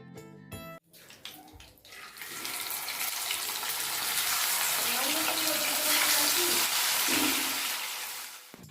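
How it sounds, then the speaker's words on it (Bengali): Barramundi fish pieces frying in oil in a pan as they are turned over: after a few clattering knocks, a loud, steady sizzle swells and holds, with a faint voice briefly underneath. "মাছের নিচের দিকটা ভাজা হয়ে যাওয়ার পরে আস্তে করে ধরে উল্টে দিলাম"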